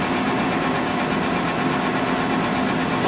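The spindle of a Daewoo Puma 10HC CNC lathe runs at about 500 RPM, giving a steady, loud mechanical drone with a constant hum and no pauses or talk.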